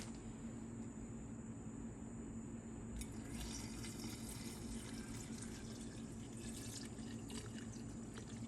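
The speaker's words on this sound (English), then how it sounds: "The final step is to top that off with vinegar." Vinegar pours into a glass jar of shelf-stable vinaigrette, a faint close trickling fill that starts partway through over quiet room noise.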